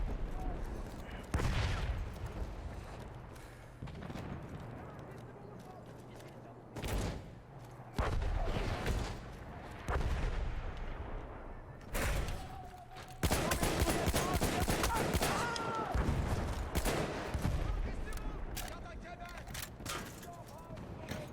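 Rapid bursts of gunfire and explosive booms from the Battlefield 1 video game, with loud overlapping volleys and sudden impacts; a voice talks over the combat in places.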